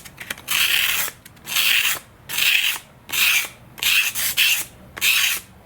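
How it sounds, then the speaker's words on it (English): 220-grit sandpaper is rubbed along the tail boom of an Eternity F5J model glider in six steady back-and-forth strokes, each a close, raspy scrape separated by short pauses, with no talking. "And then 220 sandpaper."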